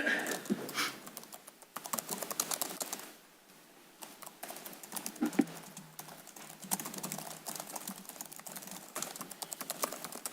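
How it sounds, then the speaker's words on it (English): Quick, uneven bursts of typing on a computer keyboard during a city planning commission meeting, soft and close, pausing briefly before resuming with scattered clicks in a quiet room. "I was just typing that."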